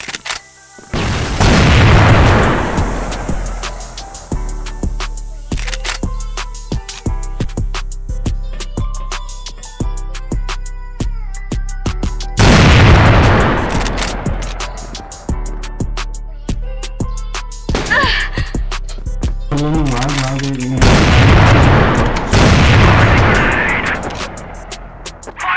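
Grenades exploding in a video game: three heavy booms spread across the stretch, each rolling out over a bed of tonal game music and scattered clicks.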